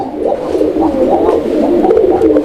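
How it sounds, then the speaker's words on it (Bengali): A pigeon coos steadily and loudly nearby, its low, rolling calls repeating without pause. "রাজগোল্লা কবুতরের আরও একটি নট এই নটটা ডাক আপনারা দেখতে পাচ্ছেন"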